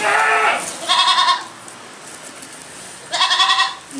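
A goat bleats twice, a short wavering call and then another after a pause, close and loud against quiet.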